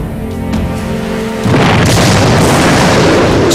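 Massive volcanic explosion of Krakatoa in 1883, heard as a loud sustained booming roar that bursts in after about a second and a half of lower rumble and continues powerfully to the end.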